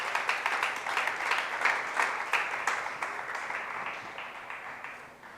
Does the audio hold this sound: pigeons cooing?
no